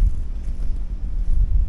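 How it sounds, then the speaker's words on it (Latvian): Wind buffets the microphone, producing a constant low, rumbling roar with no voices. "Kurš labs vējš"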